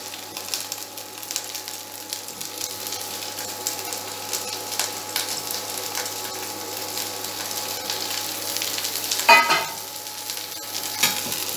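Cauliflower fries in a hot pan with onions, giving off a constant close sizzle and crackle with occasional scrapes and stirring clatters, no talking.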